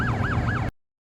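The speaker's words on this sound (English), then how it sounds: "sirens blaring" A police siren wails nearby on a convoy at the Mexican border, its pitch sweeping up and down in quick repeating cycles before cutting off abruptly into silence.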